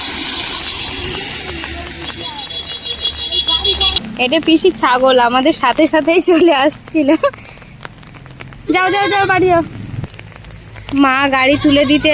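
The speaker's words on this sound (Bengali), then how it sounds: "এমন বৃষ্টি পড়ছে" Heavy rain pours as a steady, loud hiss, alone at first and then continuing under several stretches of close conversation.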